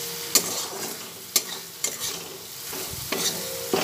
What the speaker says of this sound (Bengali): দুটো দিয়ে আবার ভালোভাবে মশলাটা ভেজে নিচ্ছি